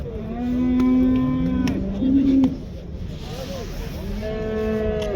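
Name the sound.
cattle, young heifer at a livestock market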